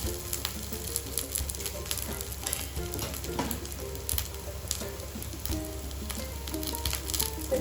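Radish pieces fry in a pan with salt and turmeric, giving a steady, close sizzle with faint scraping and crackles throughout, and no talking.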